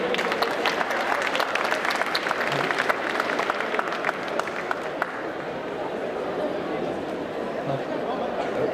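Audience applause at a stage hypnosis show at a fan convention, a steady wash of clapping that fills the whole stretch with crowd noise and scattered voices mixed in.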